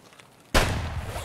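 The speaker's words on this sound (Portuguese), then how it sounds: "Ele tá dando tiro em todo mundo aqui," Gunfire in the video game Escape from Tarkov on the Customs map: after half a second of quiet room tone, a sudden loud burst of shots starts and keeps going as a dense, sustained roar to the end, with no talking.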